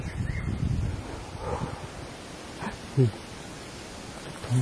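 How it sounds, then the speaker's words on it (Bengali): Wind gusts rumble against the microphone, strongest at first and then easing, with a couple of short muffled thumps. "বাতাস আসতেছে।"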